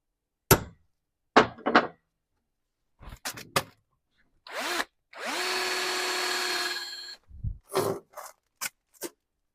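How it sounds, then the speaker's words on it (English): A power drill whirs for about two seconds, its pitch rising as it spins up while drilling an aluminium bracket on a classic Unimog, among scattered clicks, knocks and tool handling sounds. "let's see how well this drills"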